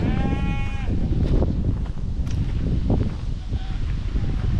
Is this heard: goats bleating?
yes